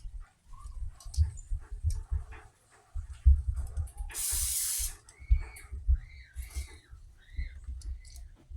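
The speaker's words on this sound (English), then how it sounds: "I'm still gonna spray some WD-40 on it." WD-40 aerosol sprayed onto a 4-stroke dirt bike engine cylinder during honing, a single sharp hiss lasting about a second amid quiet low handling noises and soft clatter.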